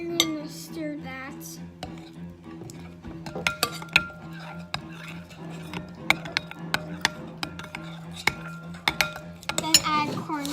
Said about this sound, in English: Then you're gonna stir that.